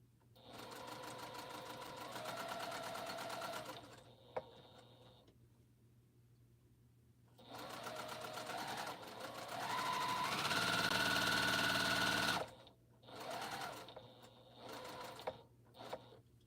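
A sewing machine stitches a quilt in close bursts: a four-second run, a pause, a longer five-second run that rises in speed, then several short stop-start spurts.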